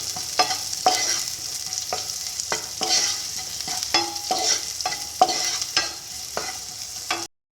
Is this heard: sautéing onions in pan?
yes